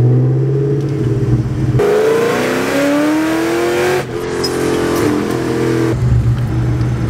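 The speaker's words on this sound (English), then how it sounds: "This is my car, 2003 Cobra, just messing around, having a little bit of fun." A 2003 Cobra muscle car engine revs loudly and close, climbing in pitch through repeated throttle pulls with a brief drop between, no talking over it.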